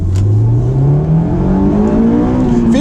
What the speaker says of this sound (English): You can feel that VTEC kick in.